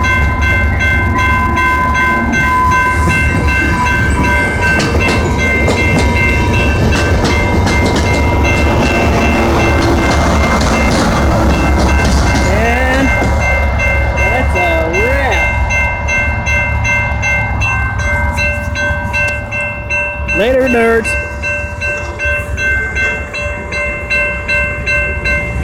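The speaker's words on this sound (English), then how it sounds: "That's a two-car train, one from Berlin." A two-car train from Berlin passes close by, loud and steady, with a continuous rumble and rail clatter. A horn sounds briefly near the end.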